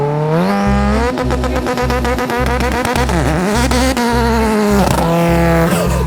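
A race car with large tires and a tuned engine launches from the start line, its engine revving hard through rising harmonics while tires squeal and skid, loud and close, continuous over about six seconds.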